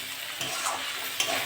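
Okra and potato pieces fry in a pan at home, giving a steady, close sizzling hiss broken by a couple of soft scraping stir strokes, with no talking.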